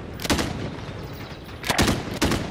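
Gunfire in Call of Duty: Warzone, fired through walls: a few loud, sharp shots in separate bursts, one early and two close together near the end, over a steady noisy game background without speech.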